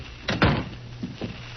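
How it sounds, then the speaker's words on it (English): In an old-time radio drama, a door is shut with a single close, muffled thud, followed by faint softer knocks and clatter against a low background hum. "Come in and shut the door."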